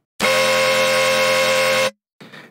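Serum synth bass patch with LFO-modulated EQ notches, one loud sustained buzzing tone lasting almost two seconds, then a short gap and a quieter noisy burst.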